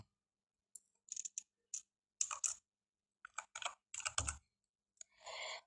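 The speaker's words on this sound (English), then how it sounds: "And now I type the text" Faint, quiet keystrokes on a computer keyboard come in short irregular bursts of clicks with brief pauses between them, ending in a slightly longer rustle, with no voices.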